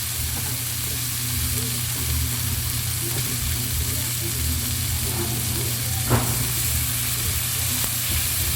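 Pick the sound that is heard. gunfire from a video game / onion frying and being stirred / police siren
onion frying and being stirred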